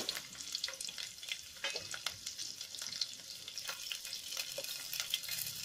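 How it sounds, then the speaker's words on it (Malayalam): Ginger and garlic sauté in a pan for a Kerala-style pork vindaloo, a steady close sizzle broken by frequent light stirring scrapes, with no voices. "അതിലേക്ക് ഒരു കുടം ഇഞ്ചിയും ഒരു കുടം വെളുത്തുള്ളിയും ഒരു ചെറിയ കഷ്ണം ഇഞ്ചിയും കൂടി വഴറ്റാൻ ഇടണം"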